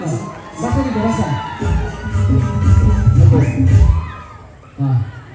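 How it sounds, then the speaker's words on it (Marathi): A stage audience at a village dance show bursts into loud cheering and applause for an 85-year-old grandmother dancer, with children shouting amid the steady crowd roar that swells and fades. "एकदा जोरात टाळ्या वाजवा"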